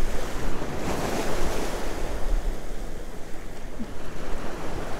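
Big ocean waves break against a jetty in a steady, continuous surf roar, with wind buffeting the microphone and no voices.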